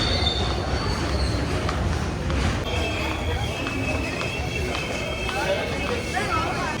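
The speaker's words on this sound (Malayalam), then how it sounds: "welcome to Agra station" A train arriving at Agra railway station rumbles past close by with a steady roar, metallic wheel squeals rising intermittently, and voices murmuring in the background.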